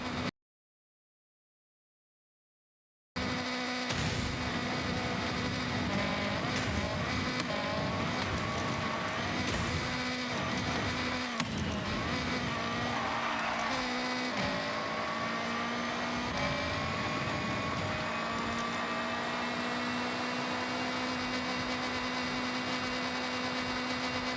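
A turbocharged all-wheel-drive rally car with a 1.6 EcoBoost engine roars through Forza Horizon, engine rising and falling through gear changes and bursts of acceleration, loud and continuous after a brief silent start.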